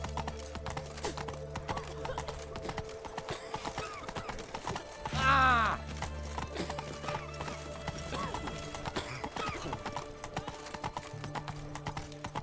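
Roach the horse clip-clops along at a steady gait in The Witcher 3, hooves thudding close and rhythmic, with a short neigh midway and faint game sounds underneath.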